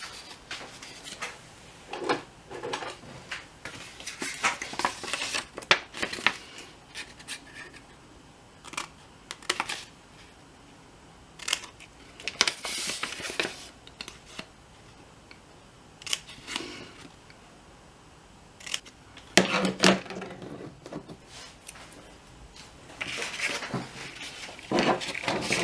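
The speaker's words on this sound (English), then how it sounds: "I need to trim off this little corner here" Paper being trimmed at a corner while making a junk journal, heard as a series of close, crisp snips and rustles in irregular bursts, with handling clatter between cuts and no talking.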